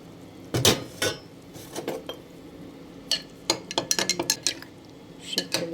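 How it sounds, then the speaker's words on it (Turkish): A spoon stirring a tablespoon of starch into hot water in a bowl for a milky trileçe dessert, giving irregular clinks and taps against the bowl, closer and busier toward the end, with no talking. "Bir yemek kaşığı nişasta sıcak suyla açacağım iyice"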